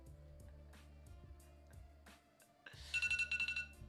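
A phone alarm going off, a loud electronic ringtone melody with repeated bright pulsing tones in the closing second, following softer background music.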